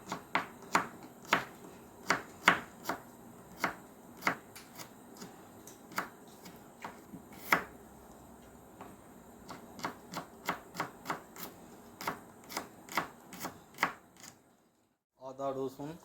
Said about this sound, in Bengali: তো আদার মতোই সেম এইভাবে ছোট ছোট করে কুচি কুচি করে নেব।